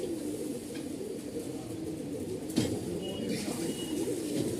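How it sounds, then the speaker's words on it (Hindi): Punjabi and Madrasi pigeons coo in low, repeated murmurs at close range, forming a soft, continuous bed of sound with a brief knock partway through. "ये देखो पंजाबी कबूतर हैं जी ज़्यादातर, एक दो मद्रासी कबूतर भी है"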